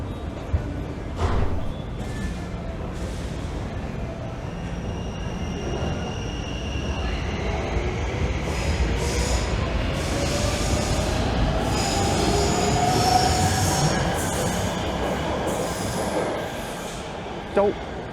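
Brussels metro train wheels squeal and screech loudly over a steady rolling rumble and clatter, swelling and fading as the carriage rounds a curve on a steep incline.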